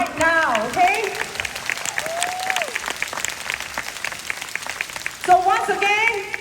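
An audience in a meeting room breaks into applause, with voices talking over the start and end of the clapping.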